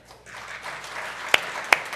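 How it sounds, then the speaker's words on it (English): A small audience claps in congratulation at a gathering, a soft scattered patter of applause under a faint murmur, with two sharp louder claps standing out near the end. "We can clap."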